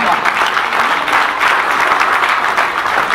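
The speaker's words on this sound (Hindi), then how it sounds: "एक बार फिर तालियां बजा दो" An audience at an event claps steadily and loudly for several seconds, a dense continuous round of applause.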